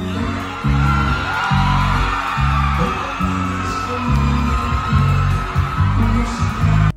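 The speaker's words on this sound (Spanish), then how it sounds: "mientras el público seguía gritando de emoción" Live audience screaming, whooping and cheering with excitement as one singer surprises another, a loud, sustained din over a thumping bass-heavy music beat.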